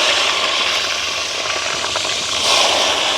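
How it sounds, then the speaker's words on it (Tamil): Salted garlic dropped into boiling oil, giving a loud, dense, continuous sizzle close by that holds steady throughout with a slight surge near the end. "உப்பு பிரட்டி வச்சுருக்கிற உள்ளியை நாங்கள் போடுவோம்"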